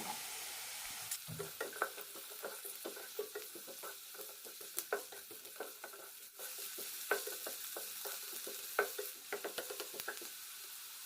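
Carrots frying in hot ghee in a pan while being stirred for ghee rice, a steady close sizzle broken by repeated scraping stir strokes and light patter throughout.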